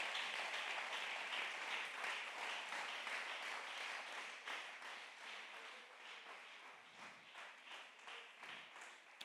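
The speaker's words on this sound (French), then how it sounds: "Acclame très fort le Seigneur." A church congregation applauds and acclaims during a sermon, a dense, sustained wash of many hands clapping that fades a little toward the end.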